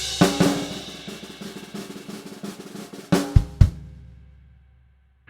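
Drum kit passage from a Trinity College grade 3 piece: a sustained snare buzz roll with accents, then an accented snare hit followed by two thudding bass drum strokes, close and dry, ringing out into silence.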